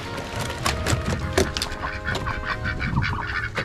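A flock of farm ducks quacks and honks in a noisy, overlapping chorus, close and continuous with wind in the background.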